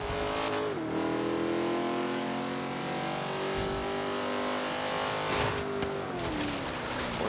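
A race car engine in a racing video game revs hard and steady, its pitch climbing and dropping through gear changes across several seconds, loud and close with no talk over it.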